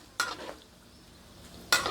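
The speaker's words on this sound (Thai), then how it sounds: "ทอดรอบสองสามนาทีครึ่งพอเลยค่ะ" Pork rinds frying in hot oil on a second frying round give a soft background sizzle, punctuated by two sharp, bright crackling bursts near the start and end, close and fairly quiet overall.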